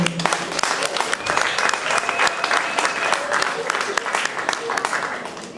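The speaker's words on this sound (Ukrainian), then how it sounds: "Ще раз оплески" An audience at a Shevchenko bicentennial concert claps for a choir of teachers in a full, lively round of applause, with individual sharp claps popping out and faint murmuring underneath.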